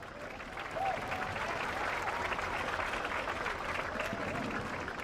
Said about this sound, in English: One big round of applause again for our All-American Marching Band staff.